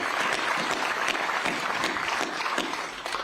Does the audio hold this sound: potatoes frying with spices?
no